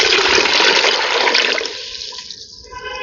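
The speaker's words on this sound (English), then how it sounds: "Let's get a little water." Tap water runs loudly into a container for a short pour, a steady broadband rush that cuts back after about a second and a half to a thinner trickle before stopping.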